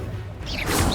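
Protego shield spell in the Hogwarts Legacy video game: a brief whooshing magical swell building into a bright crash-like shimmer, short and fairly loud amid combat sounds.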